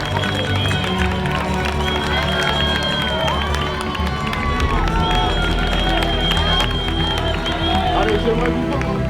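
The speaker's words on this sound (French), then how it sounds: "on prend main droite, main gauche et on les applaudit très fort." A large crowd claps and cheers for athletes at an event around Mont Blanc, a loud, continuous roar of applause with shouts and whistles rising above it throughout.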